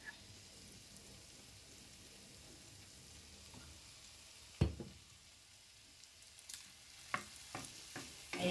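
Shrimp fried rice is stirred in a hot pan, with a low, steady sizzle broken by a sharp clank and then more frequent scraping and utensil knocks toward the end.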